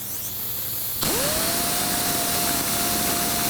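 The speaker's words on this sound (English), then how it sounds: "To best demonstrate the difference between this sander and other sanders sold in the past, I will use the one-finger test." A Sioux Tools Signature Series random orbital sander starts abruptly after quiet hiss. Its pitch sweeps up into a steady, close high whine over a broad airy rush.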